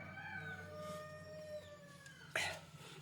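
A black-feathered country hen (karunkozhi) that has hatched chicks in its nest gives steady, drawn-out calls, then a sudden, sharper squawk near the end. No one speaks.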